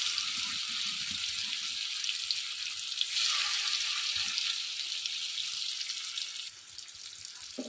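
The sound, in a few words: paneer frying in white oil and ghee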